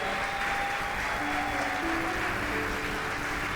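Church congregation claps in praise to Jesus of Nazareth during a worship service, a continuous wash of applause with faint sustained music tones underneath.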